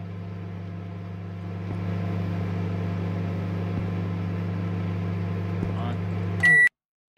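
A microwave oven in a convenience-store video game hums steadily while heating, then ends with a bright electronic beep before cutting to silence.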